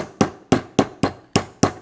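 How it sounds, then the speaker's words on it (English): A hammer lightly taps caps down onto a Rotax Senior Max 125 kart engine during assembly: six close, crisp metallic knocks at an even, unhurried pace, with no talk. "slowly but surely tap them down with your hammer"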